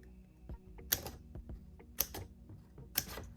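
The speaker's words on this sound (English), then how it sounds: "I'm going to do that with my little pocket scissors I got from Erin Condren" Small pocket scissors cut slits through planner paper pages: three crisp, close snips about a second apart, each followed by faint rustling, with no talking.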